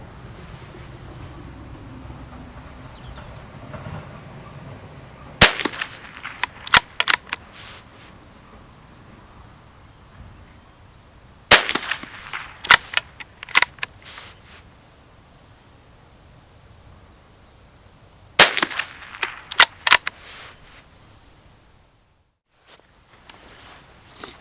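A Schmeisser BA15-22 rimfire rifle fires in three quick bursts of sharp, loud cracks, each burst holding several rapid shots, separated by quiet outdoor ambience with a low wind-like hiss.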